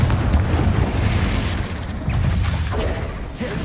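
Heavy booming blast of the Confringo fire spell detonating in Hogwarts Legacy, a loud rumbling explosion with crackling debris that sustains and rolls on across the short span.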